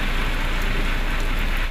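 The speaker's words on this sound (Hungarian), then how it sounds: "Fákat tépázott meg, és lakóépületek tetőszerkezetét, kéményeit is megrongálta a heves esőzés." Heavy thunderstorm rain pours down in a steady, dense hiss that stays loud and unbroken throughout, with no voices present.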